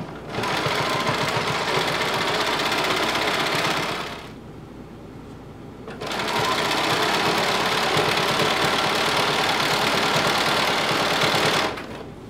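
Sewing machine stitching a hem around a top, two long runs of steady rapid mechanical whirring, close and loud, with a short quieter pause between them.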